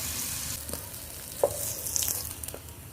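Tofu frying in a pan over low heat, a steady close sizzle with soft crackles and occasional utensil taps throughout.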